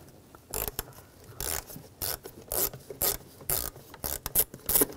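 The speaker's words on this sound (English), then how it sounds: "Loosen up this worm clamp right here, use an 8 millimeter socket." An 8 mm socket on a ratchet loosens a worm-gear hose clamp on the intake of a 2013-2019 Ford Escape 2.0L four-cylinder, giving close, repeated bursts of rapid ratchet clicking with short pauses between strokes.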